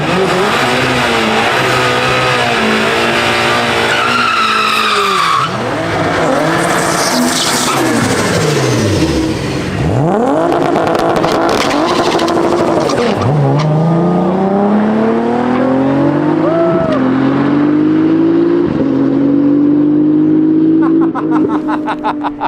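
A turbocharged Mazda Miata race car accelerating hard at a track. The engine sounds loud and close as it revs repeatedly, its pitch climbing and dropping through gear changes.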